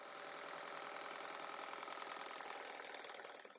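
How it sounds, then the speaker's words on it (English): A BAi embroidery machine stitches a hat, giving a continuous, even mechanical whir with a rapid needle chatter, steady and close throughout, with no voices. "It sounds like an embroidery machine"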